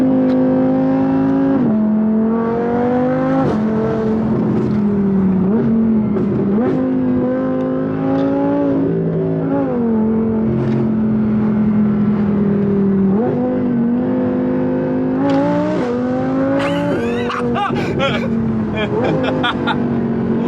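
An Audi R8 V10 Plus or McLaren 675LT engine revs hard and close, rising in pitch through repeated gear changes from a dual-clutch gearbox, with sharp crackles and pops near the end.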